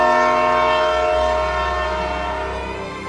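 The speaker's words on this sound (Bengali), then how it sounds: "চ ট্রেন ছাড়বে" A departing train sounds a long steady horn blast, loud and close, that slowly fades as it holds over a low rumble.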